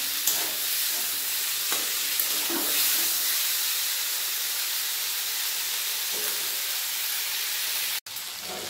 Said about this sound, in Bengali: সব কিছু ভাজা হয়ে গেছে আমার।